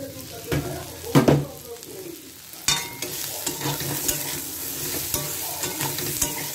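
Vegetables fry and sizzle in a pan for a lightly spiced home-style curry, with a spoon scraping and stirring in a few sharp strokes over a steady close hiss.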